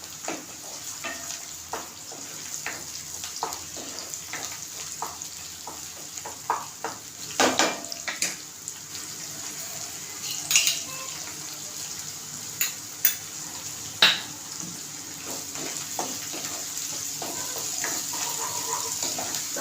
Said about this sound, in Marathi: वाटण आपल्याला चांगलं तेलात परतून घ्यायचं आहे